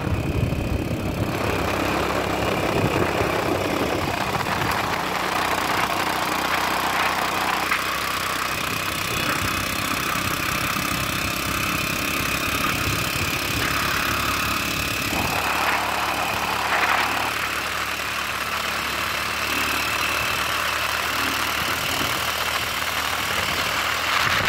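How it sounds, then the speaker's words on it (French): Motorcycle engine on a 15 km ride to a plantation near Ngaoundere in Cameroon's Adamawa region, a continuous loud running drone with shifting pitch as the bike changes speed, wind noise present, no speech. "Prenons la moto tout de suite pour faire les 15 km."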